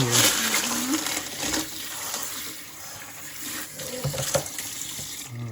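Tap water runs steadily to rinse tumbled quartz rocks, a close, continuous splashing stream that carries through the whole stretch with slight surges.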